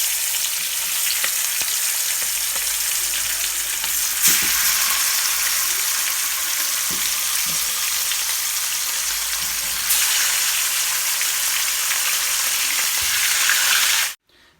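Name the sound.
fish pan frying in a pan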